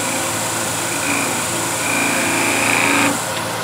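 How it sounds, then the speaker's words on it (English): Sanding a workpiece with a power tool makes a continuous high whine with a steady, grinding motor tone, loud and close, rising slightly in pitch and pressure in bursts before easing off near the end. "while I sand, and that should be it"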